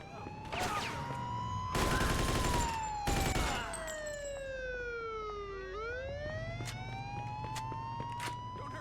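A police car siren wails in the Mafia II video game, rising and falling in long sweeps amid bursts of loud gunfire, then continuing alone with a steady engine drone beneath.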